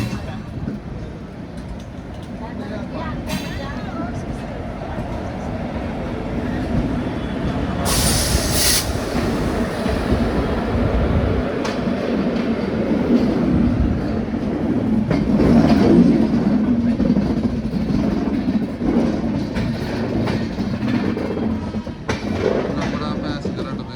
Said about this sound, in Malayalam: നാഗർകോവിൽ എക്സ്പ്രസ് കൊല്ലം പാസഞ്ചർ കേട്ടോ. ഇപ്പോൾ വന്ന് കയറിയിട്ടുള്ളൂ ഇവിടെ.